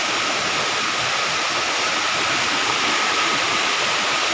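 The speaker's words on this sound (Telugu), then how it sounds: "ఇదిగోండి అద్భుతంగా హోరెత్తిపోతున్న ఈ జలపాతాన్ని చూడండి" A forest waterfall roars steadily, a loud, dense broadband rush of falling water with no break and no voices.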